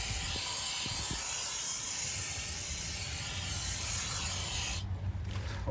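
Brake cleaner sprayed onto a wheel hub while replacing broken studs and lug nuts, a loud continuous aerosol hiss lasting several seconds before cutting off near the end, with faint low knocks underneath.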